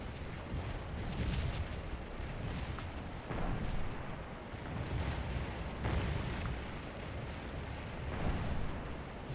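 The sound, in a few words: artillery fire in Scourge of War: Antietam video game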